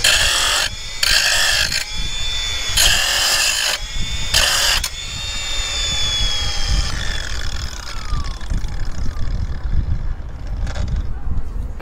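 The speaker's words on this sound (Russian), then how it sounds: "Для примера ставим на единицу и попробуем придавить болгарку во время работы." A Makita DGA511 cordless angle grinder whines at high speed, with harsh bursts of grinding as it presses into metal under load, then spins down into a steadier whir.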